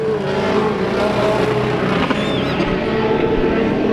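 Zero race car roaring down the front straightaway at Bakersfield Speedway during heat races, a steady loud engine drone with a rising whine, carrying on without a break.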